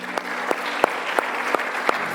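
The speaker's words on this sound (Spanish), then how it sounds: "Denle un aplauso al Señor" A church congregation applauding the Lord, with rhythmic, unison clapping at a steady beat of about three claps per second over a low sustained background of music or voices.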